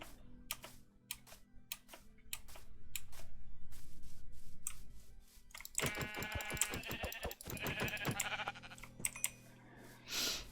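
Sheep bleating in Minecraft Bedrock Edition on a superflat world, brief game bleats mixed among dense clicking, tapping sounds that come in bursts and then grow busier and louder toward the end.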